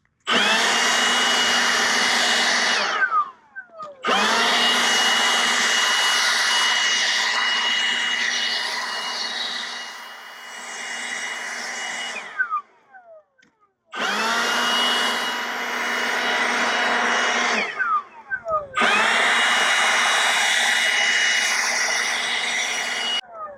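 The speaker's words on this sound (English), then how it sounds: "I need to get me a big backpack blower, but this works pretty good for right now" Handheld blower clearing vegetation off a freshly graded driveway, a loud, steady whining roar in four long runs broken by short pauses, with no talk.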